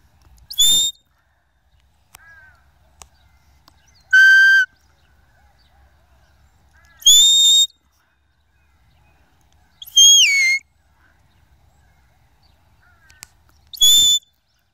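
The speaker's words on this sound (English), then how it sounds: "is still learning her whistles, so there's going to be some zigzagginess" A handler blows shepherd's whistle commands for a herding dog still being trained: five loud, sharp, rising and falling whistle blasts spaced about three seconds apart, with quiet between them and no talking.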